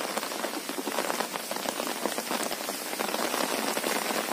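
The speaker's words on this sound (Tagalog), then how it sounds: "Bugso-bugso po yung ulan dito." Heavy, wind-driven rain pours steadily in gusts, a dense hiss of drops pattering on surfaces with no one speaking.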